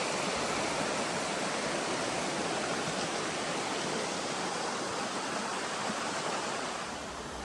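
A creek at a campsite flows steadily, a dense, even rush of water that stays constant and fairly close with no voices.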